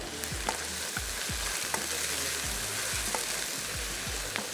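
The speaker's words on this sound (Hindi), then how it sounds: "और इसकी कर लेते हैं भुनाई।" Okra frying in a pan gives a constant sizzle, broken by regular scraping stirs of a spoon that recur about every half second, close and moderately quiet.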